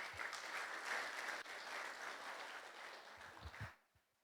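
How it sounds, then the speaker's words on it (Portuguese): An audience at a faith-based entrepreneurs' meeting gives a round of applause for a volunteer, dense steady clapping that drops away abruptly near the end, leaving a few scattered claps. "Salve de palmas pro Lucas"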